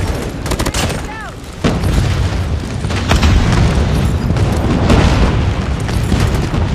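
Call of Duty airstrike explosions as heavy, continuous booming rumble, preceded by a sharp burst and a brief game voice announcement, loud and sustained for several seconds.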